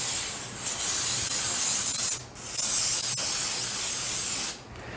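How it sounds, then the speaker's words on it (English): Cooking spray is sprayed into an 8x5 loaf pan for banana bread in a few close, loud hissing bursts separated by brief pauses. "I'm going to take that and I'm going to spray it first."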